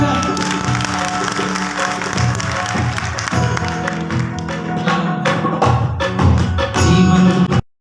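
Loud crowd clapping at a live devotional bhajan evening for the Hariyali Teej festival, mixed with music and voices, with sharper claps toward the end before a sudden cutoff.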